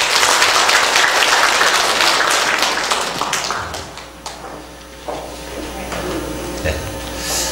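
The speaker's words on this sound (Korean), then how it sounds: "박수 한번." A congregation applauds during a Korean church service dedicated to student teachers, a loud dense burst of clapping that fills the room and then thins out into scattered claps and room murmur.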